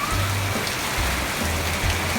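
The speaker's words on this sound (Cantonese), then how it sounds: "落大雨啦！" Heavy rain pours down in a strong wind near a beach in Phuket, a loud, steady, close hiss of falling water with no talking over it.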